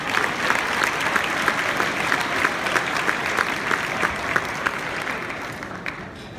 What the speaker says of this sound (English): please, can you give yourselves a beautiful round of applause